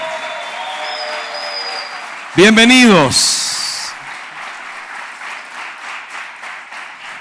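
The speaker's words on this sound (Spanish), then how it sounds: "Denle más fuerte el aplauso al Señor." A church congregation claps loudly and continuously during a worship service, and a voice briefly speaks over the steady clapping before it carries on and slowly fades.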